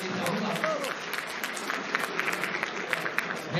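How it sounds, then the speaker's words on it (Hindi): Audience clapping for performers of a traditional Gaddi Nati folk dance from Chamba, steady moderately quiet applause with scattered sharp claps throughout. "अगर आपको अच्छी लगी तो एक बार जोरदार तालियां कलाकारों के लिए चाहूंगा।"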